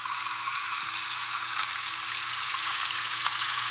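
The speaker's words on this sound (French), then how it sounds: "Et des bulles dans une casserole." Bubbles in a saucepan, AI-generated, make a dense, steady bubbling and sizzling hiss that runs unbroken and evenly loud, with scattered small pops and no voices.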